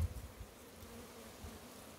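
Italian honeybees buzz around a dripping honeycomb outdoors, a soft, steady, low drone of wings close by with no voices.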